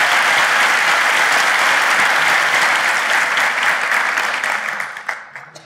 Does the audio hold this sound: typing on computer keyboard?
no